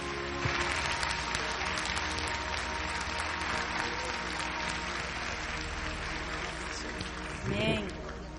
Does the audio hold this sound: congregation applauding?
yes